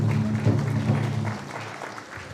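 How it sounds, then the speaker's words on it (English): An audience at a tri-nation signing ceremony claps loudly at first, then the applause thins and fades away over a couple of seconds. "let's give her a big round of applause"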